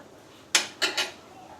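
A spoon knocks and scrapes against a metal pot as spices are stirred into boiling water, giving three quick clinks close by over a quiet background.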